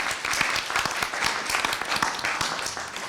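Applause from an audience at a university speech contest after a student's presentation, dense steady clapping filling the whole stretch at moderate loudness with no talk over it.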